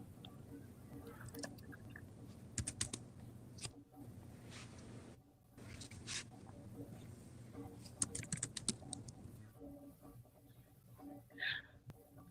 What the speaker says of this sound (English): I hear him typing, but maybe he don't hear us.